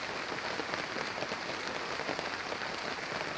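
Steady rain in a Bengal village pours down as a dense, even hiss with no break and no voices.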